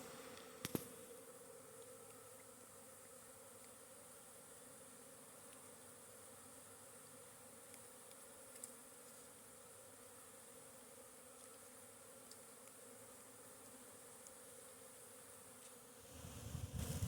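Honeybees fly around the outside of a hive box on a winter day, a steady, faint, low hum that continues without a break, with a brief knock near the start and a rustle at the end.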